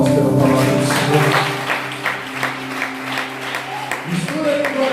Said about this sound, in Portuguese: Dê uma salva de palmas pela palavra do Senhor.